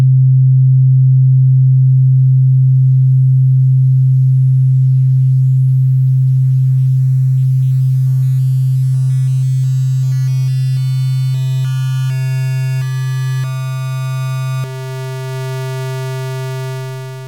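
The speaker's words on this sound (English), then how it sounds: "you're turning this smooth sine wave more and more into like a jagged edged square" A Digitakt synthesizer sine wave swept through increasing bit reduction, starting as a pure, loud low tone and growing buzzier and harsher with rising overtones as it steps toward a jagged square-like sound, heard alone without talk.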